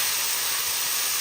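Beef tips searing in a hot pan, giving a steady, loud, close sizzle with a continuous bright hiss and no pauses across a brief moment.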